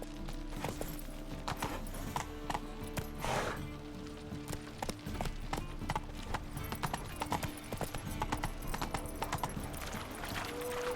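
Roach, a horse in The Witcher 3 video game, clip-clops in a steady run of hoofbeats, close and fairly loud, with a brief neigh and a little talk mixed in.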